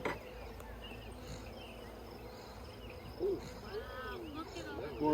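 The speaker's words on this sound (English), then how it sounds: "More bees, more" Honey bees buzz around an open hive during installation of a nucleus colony fed on sugar syrup in Michigan's Upper Peninsula, a steady insect drone with rising tonal whines, faint background sounds and occasional movement close to the microphone.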